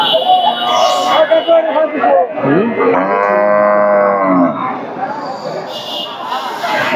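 Cattle at a busy rural livestock market in Bangladesh, with local and foreign breeds including Sahiwal, low drawn-out moos rising loud and close over a crowded background of voices and market chatter.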